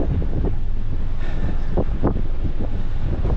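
A Nile cruise ship departs from Aswan as strong wind buffets the microphone, a constant low roar of engine and water with gusty rumbles and brief louder swells, no voices.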